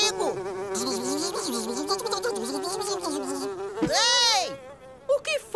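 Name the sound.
flies buzzing, cartoon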